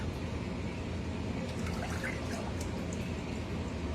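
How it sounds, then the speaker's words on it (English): A can of evaporated milk is poured into a saucepan holding a stick of butter, making a soft, steady liquid trickle over a constant background hiss, with no talking. "We're going to put in 1 can of evaporated milk."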